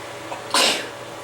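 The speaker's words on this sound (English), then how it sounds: "This was a sneeze." A single sneeze bursts out loud and close midway through, a quick breathy blast after a short quiet lead-in, then fading away.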